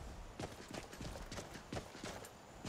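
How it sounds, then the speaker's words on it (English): Horse hooves clip-clop in a steady rhythm on the ground in the video game Skyrim, close and clear, about ten hoof strikes over a few seconds with no talking. "You're a pretty horse."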